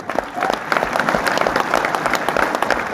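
A seminar audience at the Jorhat District Library claps in a lively, uneven patter of close hand claps, with crowd voices mixed in underneath.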